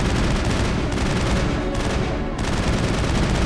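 Rapid sustained gunfire from an overheating weapon in Mass Effect, a continuous loud stream of shots with short gaps between bursts, close and dominant with no talk.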